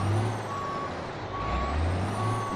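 Mack R Series truck in American Truck Simulator backing up: three evenly spaced reversing beeps over a steady low diesel idle and hiss, close and clear with no talk.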